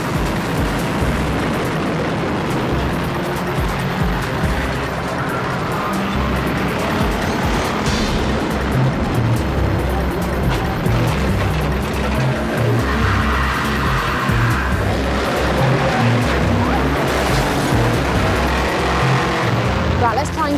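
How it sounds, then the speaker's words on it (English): Banger racing cars roar around a race track with engines revving and tyres squealing and skidding as they crash and jostle, a loud continuous din with a voice talking over it. "With all the cars crashing around me"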